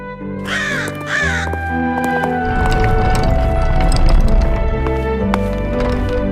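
Crow caws in a narrated fairy tale, two loud harsh calls close together at the start, followed by a dense clattering, rumbling bed of sound effects that continues to the end.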